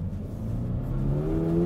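A Toyota GR86's engine climbs toward 7,000 RPM, a smooth rising rev with the pitch sweeping steadily upward, heard from inside the car at moderate volume with no talking.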